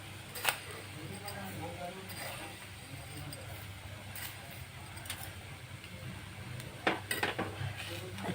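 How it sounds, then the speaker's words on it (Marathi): Sugar being stirred into a beetroot, carrot and coconut mixture in a pan for vadi, with a steady low scraping and occasional sharp clinks of a spoon against the pan near the start and end; a voice speaks over it. "ती पण विरघळेपर्यंत परतून घेऊया."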